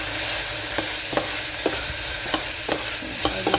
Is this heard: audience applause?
no